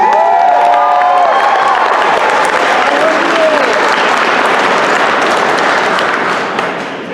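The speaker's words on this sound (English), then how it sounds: "round of applause for our first timers" A large convention crowd at an anime event applauds first-timers, loud sustained clapping mixed with cheers and whoops, voices calling out near the start, holding strong before tapering slightly at the end.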